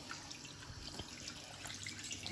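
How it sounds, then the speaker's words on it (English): Tap water running steadily into a sink during handwashing, a continuous soft splashing stream with small irregular spatters, nearby and fairly quiet, no voices. "I'm gonna wash my hands quickly."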